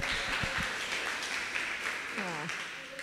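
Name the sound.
applause, audience clapping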